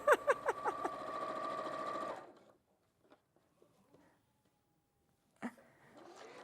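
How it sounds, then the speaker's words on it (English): A sewing machine runs a straight line of stitching across fabric, the rapid needle rhythm loud and steady for about two seconds before it stops, followed by quiet handling noises and a brief bump near the end. "So just sewing straight across now."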